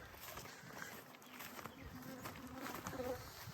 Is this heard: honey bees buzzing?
yes